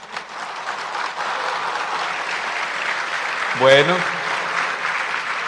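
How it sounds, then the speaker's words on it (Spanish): Steady audience applause at a religious conference in a hall, moderately loud and continuous, with a short spoken word cutting through briefly near the middle. "Les iba a decir que le diéramos un aplauso a la Virgen María"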